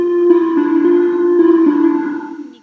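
A sidechained synthesizer in an instrumental section holds a steady, smooth mid-pitched tone with faint harmonics, softly pulsing and slightly wavering before fading out over a few seconds.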